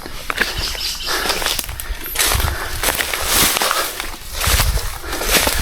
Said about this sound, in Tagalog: tas huni ng mga ibon.